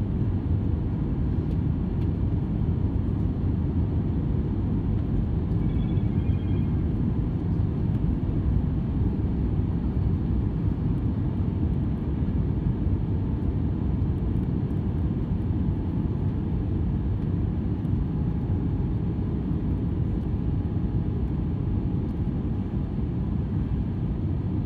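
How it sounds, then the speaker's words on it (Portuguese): Steady, loud low-pitched engine roar and rushing air fill a LATAM airliner cabin on the landing approach to Brasília, an unbroken drone with no clear voices over it. "Tripulação, estamos próximo ao pouso."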